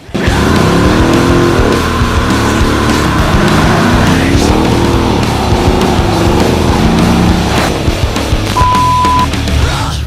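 A Mercedes CLS 63 AMG, driving with no one inside, runs with a loud, close engine roar that rises and shifts in pitch, with some tire noise, continuous throughout.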